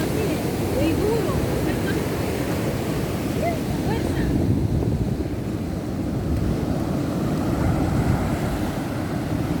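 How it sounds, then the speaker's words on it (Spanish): Ocean waves wash continuously onto a beach in El Salvador, a steady broadband roar mixed with wind buffeting the microphone, with a person briefly speaking over it. "El sonido ahí de las olas, ahí el sonido de las olas ahí del mar."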